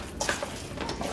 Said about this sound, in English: What you want to do now is give this a good mix.